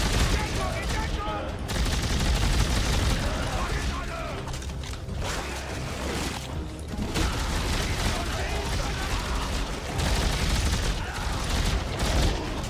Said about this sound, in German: Da wird irgendwo geballert.